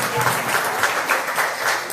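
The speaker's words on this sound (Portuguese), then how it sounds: "Vamos dar um aplauso ao Senhor Jesus, que Ele merece, né?" A congregation at a Christmas church service bursts into a short, dense round of applause, with a voice audible over the clapping.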